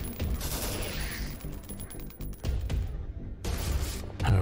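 Rapid weapon fire in the first-person shooter game The Citadel, dense bursts of shots with mechanical clacks, a short pause near the end before firing resumes.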